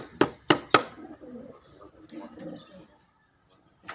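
Three sharp flaps or clicks, then soft pigeon cooing, low burbling calls close by that trail off into quiet.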